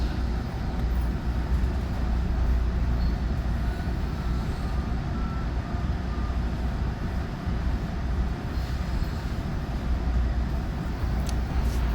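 Interior rumble of an exo commuter train running on the line between Montreal and Mascouche, a steady low roar of wheels and motion with faint rattles, continuous and fairly loud, no voices.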